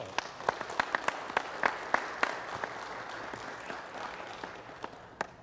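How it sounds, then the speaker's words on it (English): Sparse, quiet applause from a small city council audience: scattered individual claps ring out irregularly, stronger early on and thinning toward the end. "I think that needs a round of applause."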